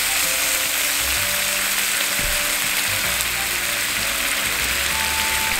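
Pasta water ladled into hot oil with tomato and shrimp in a pan gives a steady, close, broadband sizzle that runs the whole time with no talking.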